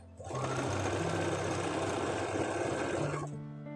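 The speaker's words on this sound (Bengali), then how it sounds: "দেখো আমি পাইপিং করছি আর সেলাই করে নিচ্ছি।" A sewing machine stitches piping onto a quilted Christmas placemat, running in one steady, loud whirring burst of about three seconds that starts and stops cleanly, very close, with no talking over it.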